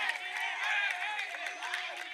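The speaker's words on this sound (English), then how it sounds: "A cheer too early." A distant crowd at a college roundnet regional tournament cheers too early, a diffuse, fairly faint swell of voices and scattered shouts holding steady over a couple of seconds.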